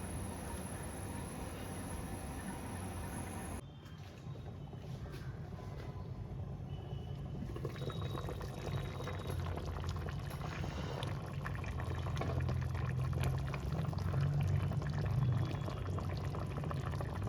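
Hungarian beef goulash in a pot on a gas stove turned down to a simmer, giving a soft, continuous bubbling hiss that stays faint and steady and grows slightly fuller toward the end.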